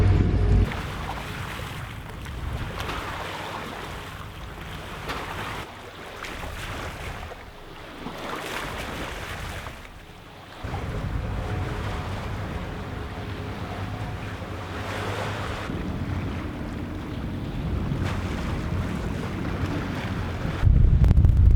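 Wind and waves wash steadily around a sailboat on an open-ocean passage toward Tonga, with continuous broadband rushing, gusty microphone buffeting and a brief lull partway through, no talking.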